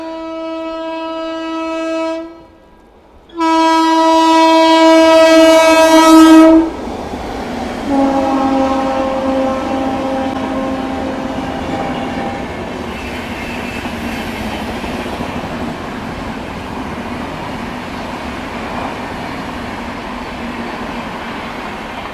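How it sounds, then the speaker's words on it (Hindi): The Magadh Express passes in dense fog. Long, loud horn blasts are followed by a steady rumble and the clatter of rail cars rolling past. "मगध एक्सप्रेस।"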